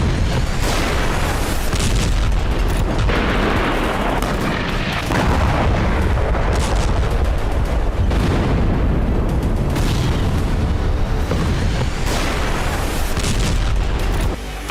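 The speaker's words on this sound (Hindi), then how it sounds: "यूक्रेनी फोर्स लगातार ड्रोन से धमाके कर रही है" Heavy, continuous booming blasts and rumbling explosions from drone attacks on a Russian oil depot in Krasnodar, loud and dense throughout, with sharper cracks and bursts layered over a constant roar.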